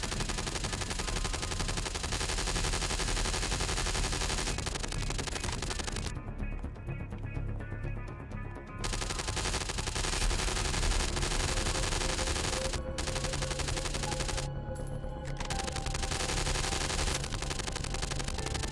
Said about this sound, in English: Gonna stick to the machine gun this time.